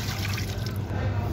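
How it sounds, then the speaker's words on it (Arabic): Water poured into a cooking pot while preparing Aleppo-style semolina harissa, a steady full splashing rush heard close up, continuous for the whole moment. "رح أضيف المي بالطنجرة"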